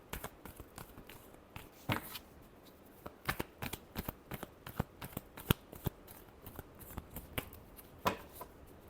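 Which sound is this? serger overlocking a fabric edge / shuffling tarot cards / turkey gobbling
shuffling tarot cards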